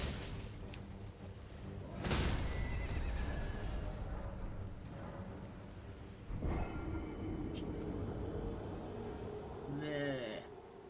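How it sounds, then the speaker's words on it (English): A horse in the Convergence Mod video game whinnies sharply twice, loud bursts a few seconds apart, over steady game ambience, with a further strained cry near the end. "Killed my horse, man."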